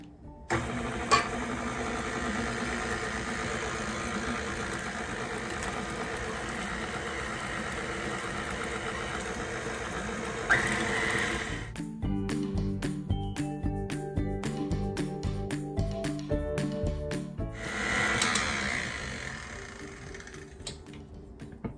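An electric mixer blends eggs into buttery gluten-free sugar cookie batter, a steady motor whir that shifts into a pulsing, rhythmic churn midway, close and fairly loud with no talking.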